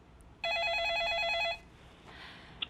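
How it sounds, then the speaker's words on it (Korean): A telephone rings once with a steady electronic trill lasting about a second, clear and fairly loud against a quiet studio background during a live stock-advice call-in broadcast, followed by faint noise. "그럼 먼저 걸려온 전화부터 받겠습니다"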